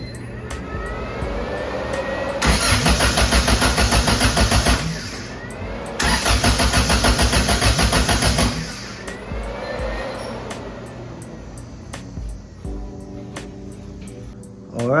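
Honda Civic with a B20 engine swap cranking with the distributor unplugged, two long bursts of loud rhythmic starter churning separated by pauses, close and without firing, with lighter mechanical whirring and clicks between.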